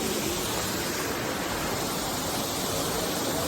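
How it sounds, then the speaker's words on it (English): Abbey Falls, a waterfall nestled among coffee and spice plantations in Coorg, roars as a dense, constant broadband rush of falling water, loud and unbroken, with no voices. "There's a waterfall which is name called Abbey."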